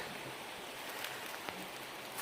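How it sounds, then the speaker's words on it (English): Forest creek splitting three ways over rocks, a steady broadband wash of flowing water close by, continuous with a few small splashy accents and no voices. "You got a creek going in 3 different directions here."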